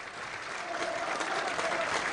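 A football crowd at Burnley versus Scunthorpe United applauding as an injured player leaves the pitch, a steady wash of clapping from a large stadium audience, fairly distant, with a commentator's voice faintly over it.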